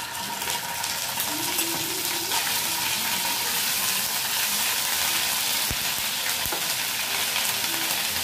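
Ginger garlic paste frying in hot oil with whole spices (garam masala, cumin, chili and bay leaf) for a cauliflower masala, a continuous loud hiss and crackle close up, with faint stirring and no speech.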